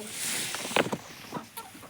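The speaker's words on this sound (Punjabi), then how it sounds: "ਇਹ ਆਪਣਾ ਕੁੱਕੜ ਆ ਤੇ ਆ ਆਪਣੀਆਂ ਮੁਰਗੀਆਂ ਨੇ" A rooster and hens cluck and chatter softly in a backyard, with faint, scattered calls over a light background hiss.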